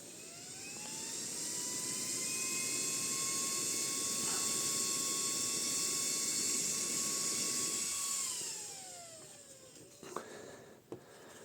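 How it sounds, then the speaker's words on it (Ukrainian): A small 12-volt, 1-amp electric motor whines steadily at a high pitch for several seconds, then spins down, followed by a few clicks. "От такий моторчик, який має 12 вольт 1 ампер."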